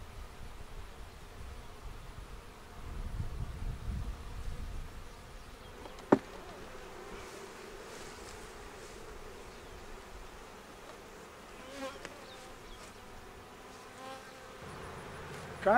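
Honeybees buzz around an open hive during a brood inspection, a constant close hum of many insects with occasional rustles and a sharp knock.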